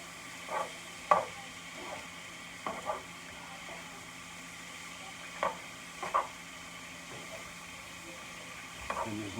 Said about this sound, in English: Stir your corn in.